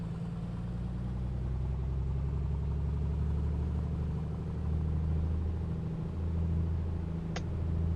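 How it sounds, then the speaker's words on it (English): A light aircraft piston engine runs up to about 1700 RPM in a flight simulator game, a steady low droning rumble that holds throughout with slight shifts in pitch and no voices. "Let's close this so we can pay attention to our engine noises, make sure nothing's everything's running smoothly."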